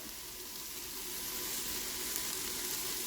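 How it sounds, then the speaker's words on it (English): Garlic cloves fry in a pot of dark roux for chicken and sausage gumbo, giving a soft, even, continuous sizzle close by with no voices. "So now we're going to go in with those cloves of garlic."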